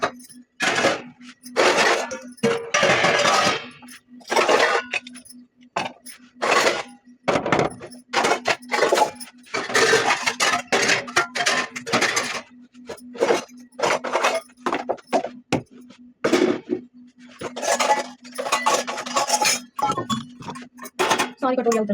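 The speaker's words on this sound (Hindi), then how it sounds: "तो मैं जचा देती हूँ बर्तन" Dishes and utensils are stacked and set in place in a home kitchen, giving repeated clinks and clatters of metal bowls and plates close by, with someone talking over them throughout.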